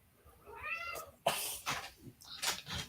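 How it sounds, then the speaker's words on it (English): A house cat meows with a rising, drawn-out cry, followed by a few shorter yowls and rustling, close to the microphone and fairly loud, with no talk over it. "Sorry, my cat."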